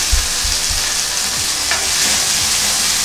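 Sliced onion frying in a pan for a cauliflower and peas coconut kurma, a steady loud sizzle with a few scraping stirs near the start, no talking.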